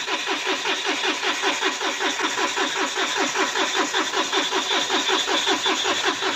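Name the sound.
Mahindra Bolero BS6 diesel engine cranking, not starting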